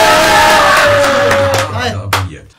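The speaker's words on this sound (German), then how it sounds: "einen fetten Applaus für Hassan und Leo!" A studio audience gives loud cheering and whooping as guests Hassan and Leo enter, a dense crowd roar that fades after about two seconds, with a short sharp burst near the end.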